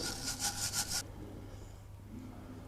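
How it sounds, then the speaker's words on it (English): Rhythmic scraping as corrosion is scrubbed off a Jaguar XF rear wheel hub during a brake disc and pad job: about five quick rasping strokes in the first second, then quiet. "just going to clean all the corrosion that's on this hub"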